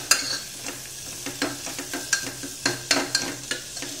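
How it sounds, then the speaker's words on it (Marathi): Mixed vegetables for Marathi masale bhat sautéed in a pan, a gentle continuous sizzle broken by repeated clinking spatula stirs nearby, no talking. "सर्व भाज्या टाकून थोड्या आपण त्या परतून घेऊया."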